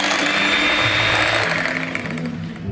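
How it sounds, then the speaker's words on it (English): An electric mixer whisks eggs, sugar and a pinch of salt for an Italian lemon cake, a loud, constant motor whine with a shifting whirr as the beaters work the bowl, and no speech. "sugar in, 4 eggs, pinch of salt, and we're gonna start to whisk them."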